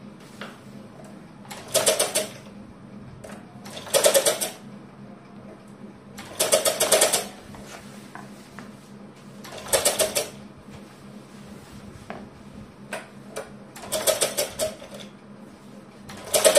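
A sewing machine stitching a long frock, running in short loud bursts every couple of seconds with quiet pauses between, close by over a low steady hum.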